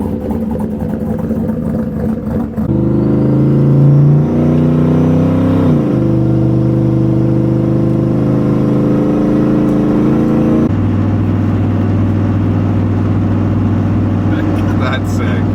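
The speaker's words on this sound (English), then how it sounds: "Give you a little sound of him. A little turbo LS." A turbocharged LS-engined car idles and revs with a deep, loud, steady drone that shifts pitch a few times, heard close by with people talking over it.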